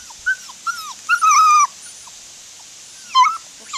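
A puppy whimpers in a few short, high whines, with a longer drawn-out whine in the middle, close and clear against a quiet room.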